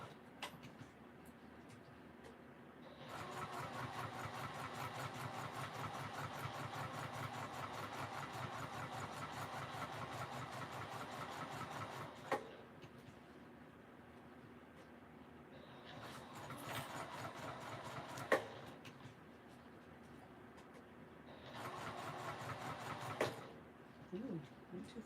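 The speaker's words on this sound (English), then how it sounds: "we are going to go forward and then back stitch because we just want to reinforce that end." A sewing machine stitches a bag, running forward and then back-stitching to reinforce the end, with a steady mechanical whir in several runs separated by pauses.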